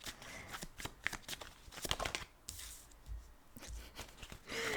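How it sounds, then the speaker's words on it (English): Tarot cards laid out on a table, soft quiet shuffling and sliding of card stock with light pats and rustles, close and faint, no talk. "I'm just gonna lay out the cards here."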